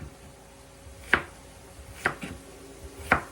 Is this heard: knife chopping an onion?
yes